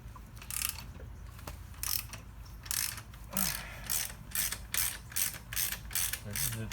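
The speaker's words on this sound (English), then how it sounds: "So hold the bolt to unscrew the" Ratchet clicking while a 19mm rear axle lock nut is loosened on a Honda CT125 Trail, a series of loud, close ratchet strokes in uneven rhythm over a low background hum.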